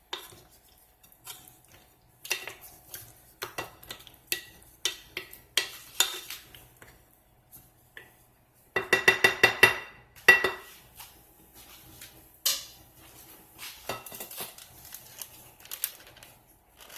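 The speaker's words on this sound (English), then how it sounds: "the sides of my bowl down, and then I will mix it again" A spoon or spatula clinks and scrapes against a mixing bowl while sweet potato pie filling is stirred, in irregular taps and scrapes with a brisk burst of rapid rattling mixing midway, no voices.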